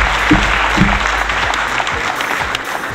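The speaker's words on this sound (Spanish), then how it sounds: "Reciban con los aplausos que crean necesarios a nuestros presentadores" An audience applauds the presenters of a show, with dense, loud clapping that carries on steadily from start to finish. No one speaks over it.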